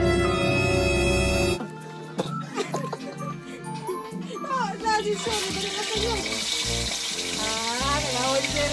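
Food sizzles and crackles while frying in a pan at a farm using traditional cooking, a steady hiss that grows stronger toward the end, with people talking over it.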